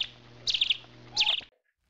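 Bright bird chirping sound effect, two quick trilled bursts of tweets about a second apart over a faint steady hum, close and clear with no speech, ending in silence.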